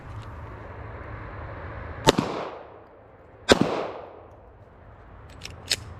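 Three loud, sharp gunshots from a Ruger Security 380 pistol, spaced a second or two apart, each followed by a quick echoing decay over low background hiss.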